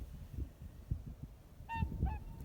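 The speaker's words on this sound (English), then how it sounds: "the swans are singing in the background here" Swans call from the background over a flooded field turned into a lake on a freezing day, with two short harmonic honking calls near the end above low wind rumble and handling noise.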